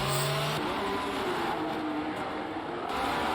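Race cars in a video game race on a Miami circuit, overtaking with a continuous loud engine roar and shifting whine, steady and close throughout.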